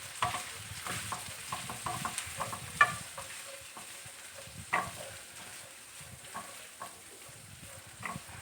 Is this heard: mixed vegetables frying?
yes